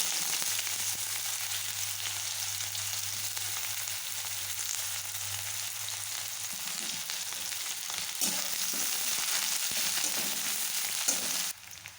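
Bay leaf, dried red chili and whole cumin fry in hot oil with a constant, close hiss and crackle that holds steady throughout, over a low background hum.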